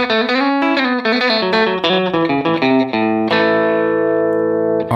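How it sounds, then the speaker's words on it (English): Electric guitar set to a country slapback delay preset, with reverb off, plays a loud run of twangy bent notes, then lets a final chord ring out, each note trailed by a quick single echo. "So your standard kind of country slapback."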